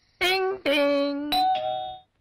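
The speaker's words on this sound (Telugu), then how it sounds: "మరుసటి రోజు ఇంటికి వెళ్ళి కాలింగ్ బెల్ నొక్కా" A house calling bell rings in three loud, clear ding-dong tones, each held for a moment and then fading, with nothing else heard.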